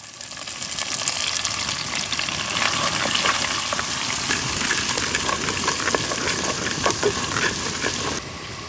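Cumin, curry leaves, crushed garlic and thinly sliced onion sputtering in hot oil for a tempering, a loud, steady crackling sizzle that runs on for several seconds before cutting off near the end.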